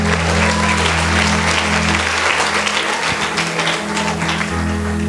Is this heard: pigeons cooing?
no